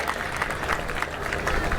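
Applause from a rally audience greeting a by-election candidate in Bhilwara, Rajasthan: dense, steady clapping of a crowd with a constant wash of voices. It holds for the whole moment at an even level.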